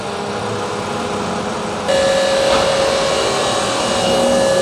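Honda Jazz i-DSI engine idling noisily with the air conditioning switched on, a steady broadband mechanical hum that grows louder midway as a whining tone joins in, with no talk over it.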